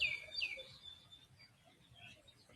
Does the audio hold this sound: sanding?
no